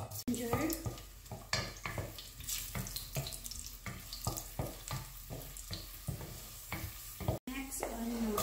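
Ginger hitting hot cooking oil in a pot for chicken soup crackles and sizzles up close, with repeated sharp scraping knocks of stirring and a brief murmur of voice.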